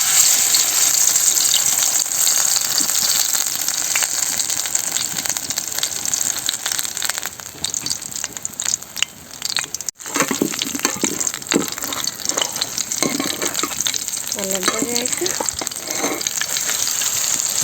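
Pumpkin leaf fritters made with dried fish fry in oil in a village kitchen, giving a loud, constant hissing sizzle that runs throughout, with faint voices near the end.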